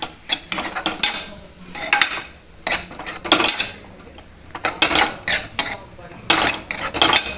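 Capsicum and onion stirred while frying in a pan for bread toast, with repeated loud metallic scrapes and clinks of a utensil against the pan in an uneven rhythm over a faint sizzle.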